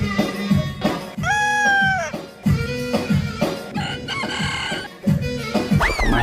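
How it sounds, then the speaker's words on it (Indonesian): A walking wind-up toy chicken clucks and crows repeatedly in a loud, close, continuous run of squawky calls with rising crows. "ada mainan ayam teman-teman. Wih, bisa jalan ini."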